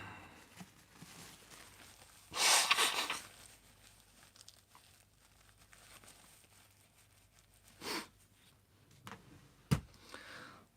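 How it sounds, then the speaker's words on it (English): A person blows their nose during a quiet indoor livestream, with a loud burst of tissue rustling and crinkling near the start, followed by softer rustles and brief handling noises. "I'm just going to blow my nose"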